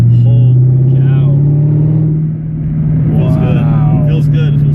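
Engine of a 2018 Chevrolet Camaro ZL1 pulling hard in sport mode, a loud steady low drone with rising harmonics as it accelerates through fourth gear, heard from inside the car with voices talking over it.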